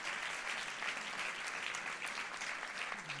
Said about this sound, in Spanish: vamos a dar un aplauso a las Juventudes Socialistas